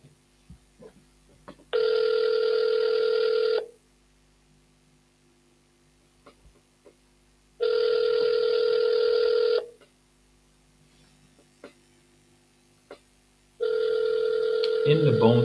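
Telephone call audio: three long, loud bursts of ringback tone, evenly spaced about six seconds apart with near silence between, the last one overlapped by a voice starting to speak.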